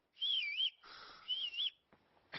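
A character in Kingdom Come Deliverance II whistles at a woman: two wavering, rising-and-falling wolf-whistle phrases, clear and close, followed by a couple of faint clicks and taps.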